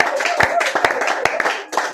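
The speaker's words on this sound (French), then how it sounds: "Acclamons tous pour Jésus." Congregation in a church claps in a quick, uneven rhythm of sharp hand claps, with voices mixed in among the clapping.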